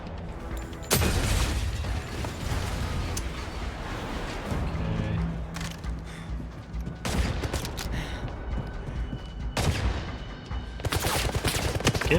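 Gunfire in the spy video game 007 First Light: repeated loud bursts and rapid shots, with dense crackling volleys early on, then a pause and further sharp flurries of fire near the end.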